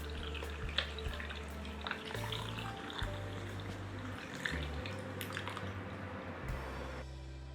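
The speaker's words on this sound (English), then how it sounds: "And pour the green tea that we made earlier into it." Green tea trickles and splashes steadily into a glass over ice, lemon slices and mint leaves, over a low background hum, with a few small clinks along the way.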